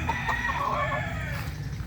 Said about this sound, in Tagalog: White kelso ni Aling Mimay.